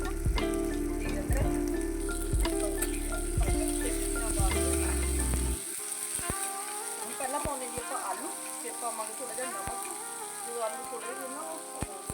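Cumin seeds hit hot oil and crackle into a lively sizzle, sharp pops and spits scattered over a steady frying hiss, loud and close.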